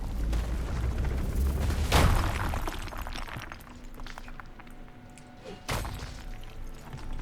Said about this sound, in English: Explosion here.